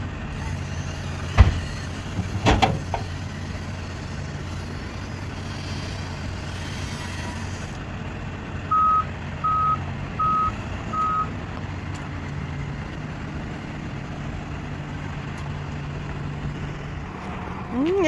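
A big truck idles and rumbles while being maneuvered for loading onto a trailer, with a hiss of air brakes, a series of reversing beeps midway, and engine revving near the end.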